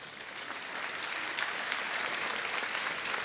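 An audience at an Italian lecture bursts into sustained applause, a dense, even wash of many hands clapping at moderate distance, steady throughout.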